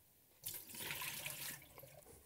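Ordinary tap water gushes from a faucet to mix a 1:1 Xtol film developer, starting abruptly after a brief quiet moment and then running steadily and softly nearby.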